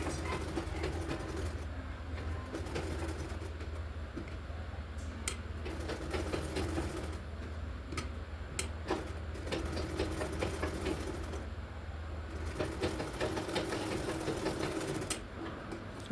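A sewing machine runs a stitching line on blouse fabric, its steady mechanical whir continuing close and alone for the whole stretch, with no talk.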